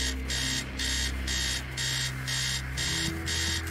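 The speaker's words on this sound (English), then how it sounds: "you can barely think with that noise. Stop alarm." An alarm rings insistently in the horror video game Stories Untold, a loud electronic tone pulsing in regular bursts roughly twice a second and repeating without pause, with no voices over it.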